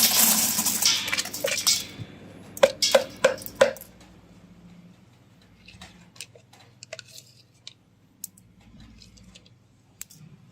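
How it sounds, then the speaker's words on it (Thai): Small phone circuit parts and chips are poured into a stainless steel pot, with a burst of rattling clatter followed by several sharp metallic clinks, then scattered faint ticks and taps. "ก็เทใส่หม้อสแตนเลสแบบนี้ลงไปเลยนะครับ"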